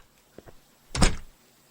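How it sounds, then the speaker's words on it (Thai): A door opens in the TekeTeke horror video game, a single close thunk with a short rattling burst lasting about a third of a second, preceded by two faint knocks. "นี่เปิดประตูนะ"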